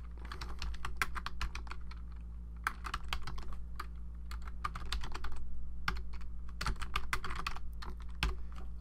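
Rapid, irregular clicking of keys on a computer keyboard as a short line of text is typed, close and crisp over a low steady hum, with brief pauses between bursts and no talking.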